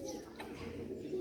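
A pet pigeon, a female with poor sight in both eyes, gives a brief soft coo close by, with a voice speaking over it.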